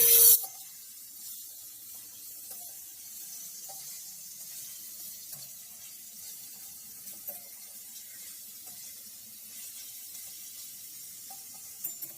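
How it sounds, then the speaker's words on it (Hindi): Beef frying with garlic in a karahi for Peshawari Shinwari beef karahi, a steady soft bright hiss and sizzle running throughout, fairly quiet and close, with a few faint clinks and no talking. "तीन से 4 मिनट हम इसको लहसुन के अंदर भून लेंगे।"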